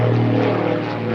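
Steady droning hum of a propeller airplane flying overhead from a nearby local airport, continuous and fairly loud with no talking.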